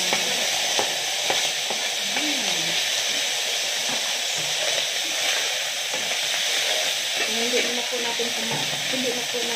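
Mushrooms fry in a pan with a steady, close bright sizzle and hiss, and occasional stirring clatter; a voice speaks briefly under the frying.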